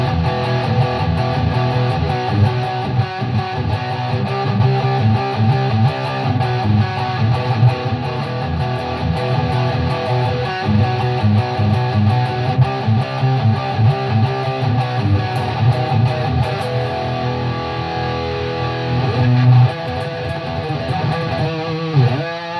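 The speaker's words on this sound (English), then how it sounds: "that's on the bridge pickup with distortion" Dean Razorback 255 seven-string electric guitar played through the bridge pickup with heavy distortion, dense chugging riffs continuing steadily and loudly with no talking.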